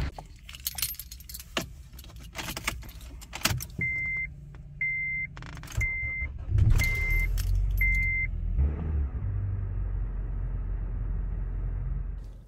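A car engine is started using a 70mai jump starter: keys jingle, a few evenly spaced electronic beeps sound, then the engine turns over and settles into a steady, close idle rumble that continues to the end.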